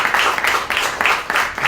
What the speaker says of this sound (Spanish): Podemos darle un fuerte aplauso al Señor esta tarde por su presencia.